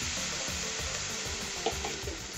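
A mixture of chopped tomato, coriander and four green chillies sizzles and spatters steadily in a hot pan for a Punjabi rajma curry, with a few soft stirring clicks and no talking.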